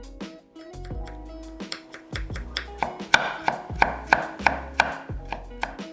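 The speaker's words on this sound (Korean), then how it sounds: "삶은 고구마 1개는 껍질을 벗겨서 사등분 후 얇게 편 썰어" A knife chops steadily on a cutting board, thinly slicing peeled boiled sweet potato, a quick series of sharp taps gathering pace, close and crisp, with soft background music.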